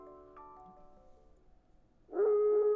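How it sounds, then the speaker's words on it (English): Faint, wavering tones drift through a quiet opening, then a wolf's howl rises abruptly and holds as a single loud, sustained, slightly quavering note to the end. "A howl."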